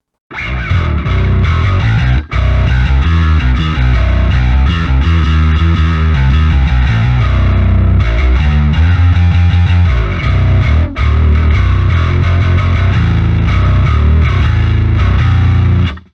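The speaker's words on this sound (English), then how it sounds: "we'll crank the input and just see how much distortion we can get out of this, how much growl" A heavily distorted bass guitar plays loud, continuous gritty notes with a thick low end, pausing only for a couple of brief instants.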